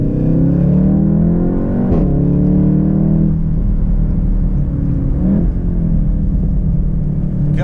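A Volkswagen Golf R fitted with an Akrapovic exhaust accelerates hard, its engine note climbing through the revs with two gear changes, loud and close from inside the car.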